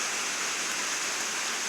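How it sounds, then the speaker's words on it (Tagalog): Heavy rain falls on a rainy afternoon as a steady, dense hiss with no breaks, fairly loud and unaccompanied by voices. "Malakas na ang ulan."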